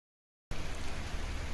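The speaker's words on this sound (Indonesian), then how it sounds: "sudah disambut hujan sederas ini" Heavy rain pours in a steady, dense hiss on the way toward Gunung Prau in Ungaran Timur, starting suddenly after a moment of silence and continuing without a break.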